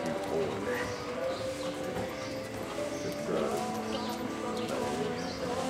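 Horse hooves clip-clop in a steady trot through a schooling session, with people talking over the rhythmic footfalls and birds cooing faintly in the background.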